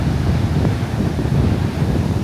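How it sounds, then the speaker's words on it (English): Strong wind buffets the microphone in steady low gusts, with a faint wash of surf beneath, at a beach on Amelia Island, Florida. "A little bit windy here."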